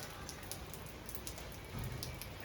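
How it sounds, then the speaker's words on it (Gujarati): Light, slow rain falls outdoors as a faint, steady patter of scattered drops, with a slightly heavier thump near the end and no one speaking. "ગાઈઝ, વરસાદ પડી રહ્યો છે."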